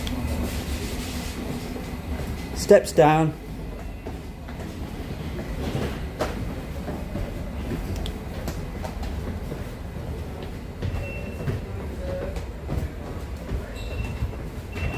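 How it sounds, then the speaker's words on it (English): A London train brakes with a sharp screech as it pulls into Shepherd's Bush Market station, loud for about a second over steady rumbling carriage noise. A brief announcement is heard. "The screeching brakes of the train just coming into Shepherd's Bush Market."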